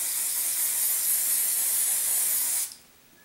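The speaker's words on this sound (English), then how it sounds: "grab the Apple Guard and I am going to spray this" Apple Guard protector sprayed from an aerosol can onto a Louis Vuitton bandeau, a loud, steady, close hiss held for over two seconds before cutting off abruptly into near silence.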